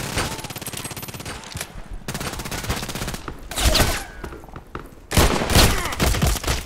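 Gunfire in the video game Contract Wars, with rapid bursts of loud shots from a Colt Python Elite revolver among other weapons, dense and continuous with brief lulls.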